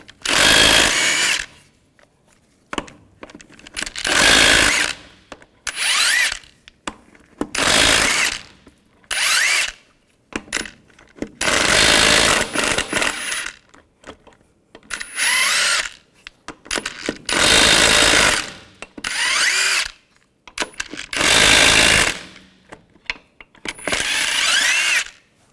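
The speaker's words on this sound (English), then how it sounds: "Take the lug nuts off." An impact power tool with a 22 mm socket spins lug nuts off a 1999-2006 Chevrolet Silverado 1500 wheel, in about nine loud, close whirring bursts separated by short pauses and faint clinks.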